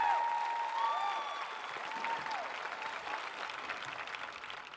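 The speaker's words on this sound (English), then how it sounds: "Let's give our early grads a round of applause." A high school commencement crowd at the Fremont Ross Class of 2024 ceremony applauds its early graduates, a continuous, fairly loud patter of many hands clapping that fades gently, with a few brief tonal sounds near the start.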